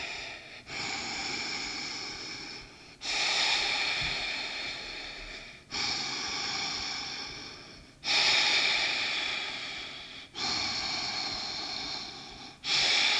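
Slow, deliberate nose breathing during a held core squeeze on a rebounder workout, with six long airy breaths, each starting sharply and fading, separated by brief pauses, close and fairly soft.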